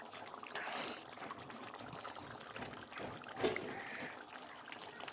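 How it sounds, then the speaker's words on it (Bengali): Pieces of katla fish are added to a reduced, simmering curry with potatoes, making soft, faint wet sloshing and trickling, with one clearer splash near the end. "এবার দিয়ে দেবো মাছগুলো।"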